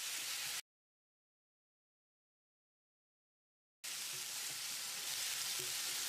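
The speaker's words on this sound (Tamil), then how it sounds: "தக்காளி நல்லா மசிகிற அளவுக்கு வதங்கட்டும்." Tomatoes with turmeric sizzle steadily in a hot pan for Chettinad chicken varuval, the frying noise cut by a few seconds of silence before resuming just as strongly.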